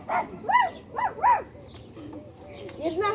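A person mimics a dog barking with a few yapping, woof-like vocal bursts in quick succession, close and loud, followed by softer voiced sounds.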